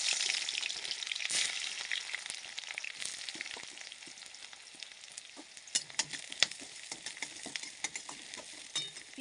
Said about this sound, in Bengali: তেল গরম হয়ে গেছে, এবার পেঁয়াজ দিয়ে দিব।